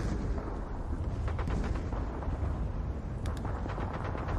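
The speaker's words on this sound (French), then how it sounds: "plus de 3500 canons soviétiques ouvrent le feu sur les positions roumaines" Massed Soviet artillery, over 3500 guns, opening fire on Romanian positions near Stalingrad on a freezing foggy November morning in 1942: a dense, continuous rumble of booms and cracking blasts, loud and sustained without pause.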